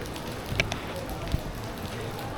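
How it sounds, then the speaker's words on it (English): Light rain patters on surfaces outdoors at the Batu Caves temple, a soft, steady wash with a few faint ticks and drops near the mic. "Getting a little moist here because of this light rain going on"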